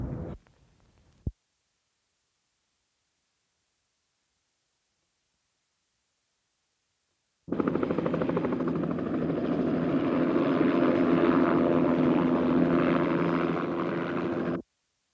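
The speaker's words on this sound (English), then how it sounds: "when the helicopter's up" A Los Angeles police helicopter passes overhead in 1980, its rotor a steady, loud whirring drone that cuts in abruptly after a long silence, holds for several seconds and then cuts off.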